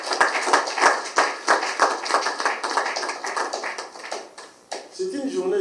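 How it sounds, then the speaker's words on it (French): A crowd at a political gathering claps in praise of a freed leader, loud irregular clapping that sometimes falls into a rhythm, with a voice speaking near the end. "l'honorable président Eugène Diomi Ndongala, que je demande d'applaudir fortement."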